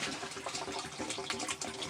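Water gushes out of a drain hose after a relief valve is opened on a home water tank during winterizing, a loud, continuous, turbulent splashing flow close by.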